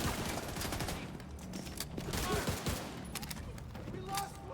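Rapid bursts of gunfire in The Division 2 during a hardcore solo permadeath session, dense and sustained throughout, with repeated sharp shots over a busy combat soundscape.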